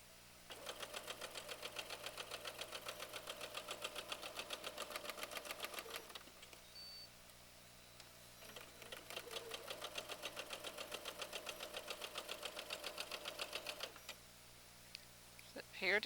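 Sewing machine stitching quilt rows together, running in long steady bursts of rapid mechanical needle chatter with a brief pause between runs and a quiet hum underneath.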